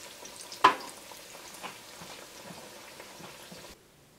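Indonesian banana fry sizzles in a pan with a soft, even crackle, opening with one sharp clack. The frying runs steadily under no voices and cuts off abruptly near the end.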